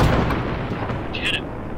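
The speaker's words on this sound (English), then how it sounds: "Fire. Rocket, rocket, rocket. Go." A rocket launch in a game goes off as a sharp, heavy blast that fades into a rumbling tail, close and loud, with a voice shouting over it.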